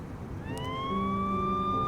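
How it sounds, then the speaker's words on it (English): Police car sirens in the Lucid9 game rise into a steady wail over a low background rumble, moderately loud and growing, with no voices. "I notice a line of police cars surrounding the entrance gates, lights flaring and sirens blaring."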